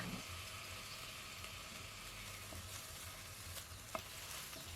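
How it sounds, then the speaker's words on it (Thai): Chinese sausage frying in oil in a pan, a quiet even sizzle with occasional small pops and ticks, nothing spoken over it. "แล้วเราก็ เจียวต่อไปนะคะ เดี๋ยวน้ำมันเนี่ยจะออกมาจากตัวกุนเชียงเองค่ะ"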